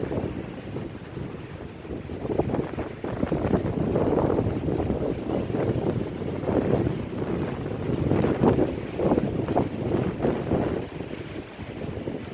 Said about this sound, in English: Pretty much safe to say that this wind is not going to let up